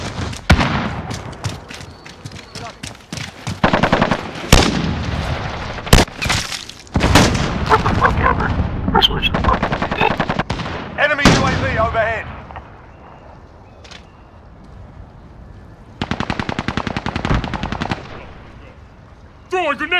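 Rapid bursts of automatic gunfire and single shots from a shooter video game crackle loudly and close, with booming impacts and brief pauses between volleys while voices talk over the action.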